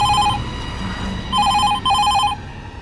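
A telephone rings in short repeated electronic bursts, loud and close, with pauses between rings and a low background hum.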